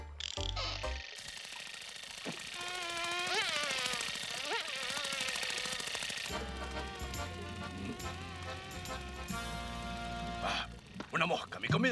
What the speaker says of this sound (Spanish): Una mosca, mi comida favorita.